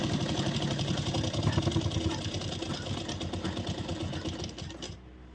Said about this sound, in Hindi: पहले तो सीधे साइड सिलाई लगाएंगे, इससे हमारा जो फैब्रिक है वो एक बराबर हो जाएगा